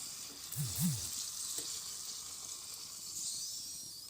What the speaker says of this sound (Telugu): ఒక గిన్నెలో ఆయిల్ పోసి అది వేడైన తర్వాత ఒక్కొక్కటిగా పూరి వేసుకోవాలి